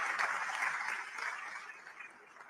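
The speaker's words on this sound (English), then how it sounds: "that deserves a round of applause" Conference audience at a diaspora culture plenary gives a soft round of applause for a dancer trained in Bharatanatyam. The clapping is fairly quiet and distant and fades steadily toward the end.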